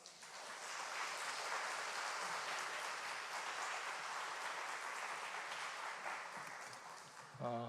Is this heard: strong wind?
no